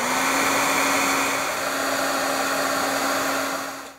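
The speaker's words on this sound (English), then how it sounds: "now I'm going to hit this with my heat tool" Heat tool blowing over wet watercolor paint on a card, a loud, steady close whooshing hum with a constant whine that holds for about four seconds before trailing off, no talking.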